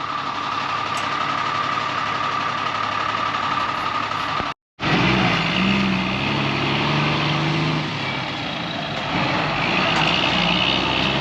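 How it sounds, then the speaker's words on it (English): An oversized truck idling nearby in a small Australian outback town, a loud steady diesel rumble with a momentary break, then continuing with a lower throbbing drone. "An oversized truck turned up."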